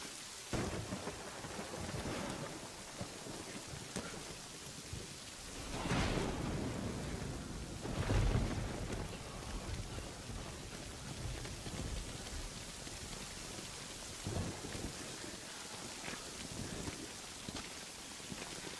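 Steady heavy rain pours down with rolling thunder swelling in several loud rumbles, one strong crack near the middle, continuous with no voices.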